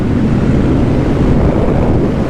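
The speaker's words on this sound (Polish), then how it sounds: "trochę wieje" Strong wind buffets the microphone in a continuous low roar, loud and close, with no voices or other sounds breaking through.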